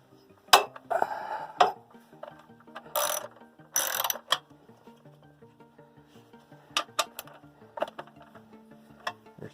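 A ratchet wrench works 10 mm bolts off the pull-cord housing of a small generator, close clicking ratchet bursts in short irregular runs with metallic clinks between, heard alone.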